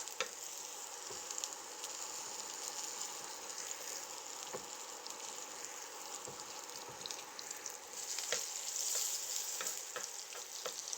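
Garlic fries in a pan for whole wheat eggplant pasta, giving a continuous, fairly quiet sizzle and hiss that swells a little louder toward the end, with faint stirring ticks.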